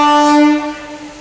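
A 17348 SSS Hubballi MEMU Express sounds a single loud, steady horn blast as it departs Ranibennur station, the tone holding then fading under rolling train noise.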